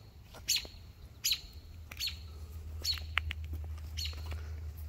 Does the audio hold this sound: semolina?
no